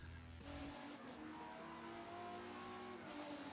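Race car engines in a D3eSports sim racing game at Road America, a loud continuous whine with rising and shifting pitch as cars accelerate and change gear, with brief tire squeal.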